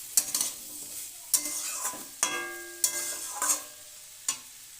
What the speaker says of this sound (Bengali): এবার দিয়ে দিলাম একটা টমেটো কেটে রেখেছিলাম, দিয়ে দিলাম, দিয়ে ভালো করে নেড়ে নিলাম।